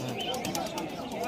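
Green Ice pigeons and other birds at a rural weekly bird market in Beldanga coo amid a dense, busy din, with people talking loudly over the steady crowd noise.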